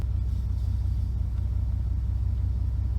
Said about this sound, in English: The car has a hot rod sound with that one muffler missing.